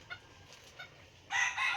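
A few soft, scattered clucks from nearby chickens, then a loud, close rooster crow bursts in at the end.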